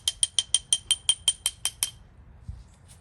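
A locked, rusted Fleet 1650-1 hand ratchet being worked, producing a quick even run of about a dozen sharp metallic clicks, close and clear, that stop abruptly, followed by near silence with one dull knock.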